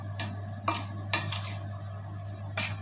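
Green apple salad being put onto a plate: a few light clinks and scrapes of a utensil against dishware, spaced apart over a steady low hum, close by with no talk.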